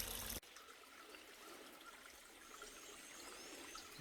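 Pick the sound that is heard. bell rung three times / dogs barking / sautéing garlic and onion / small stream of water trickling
small stream of water trickling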